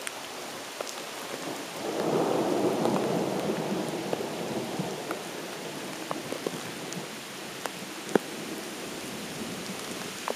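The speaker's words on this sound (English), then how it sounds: "I just wish the rain would freaking stop" Steady rain patters on a surface at night while low thunder rumbles and swells in the distance, with scattered sharp drops standing out.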